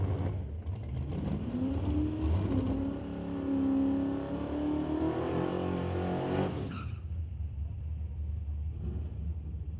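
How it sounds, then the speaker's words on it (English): A dragster at an NHRA Northwest National Open test-and-tune session tears down the drag strip; a loud, harsh engine roar climbs in pitch for about seven seconds, then cuts off abruptly, leaving faint background noise. "Which will bring up Jan Christensen in the dragster in the right lane, taking on Jason Gibson in the left lane."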